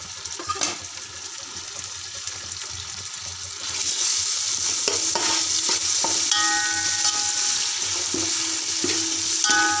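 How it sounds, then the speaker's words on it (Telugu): Ginger garlic paste frying in a pan, a steady loud sizzle that swells partway through, with scraping stirs and a few clinks of the spoon against the pan. "అల్లం వెల్లుల్లి పేస్ట్ వేసుకోవాలి."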